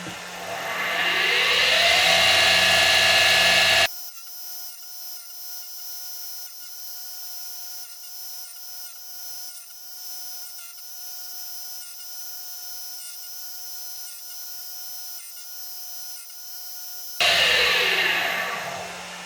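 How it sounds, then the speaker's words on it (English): A Deckel SO single-lip tool grinder grinds a D-bit: a loud, harsh grinding rush at the start and again near the end, with a steady tonal machine whine running alone in between. "It's actually grinding pretty even."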